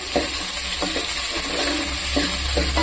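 Onions sautéing in a pan with cardamom, cloves and curry leaves, a constant loud sizzle broken by rhythmic scraping stirs of a spatula.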